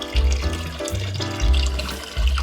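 Spring water pouring at a roadside fill-up spot, a steady full-bodied gush with low rumbling pulses, loud and close throughout.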